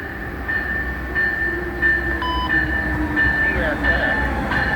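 Amtrak 305, a passenger train, stops at the station in White Sulphur Springs, West Virginia. It gives a low steady rumble, with faint brake squeal and a sustained tone above it, and the sound stays moderate and fairly even throughout.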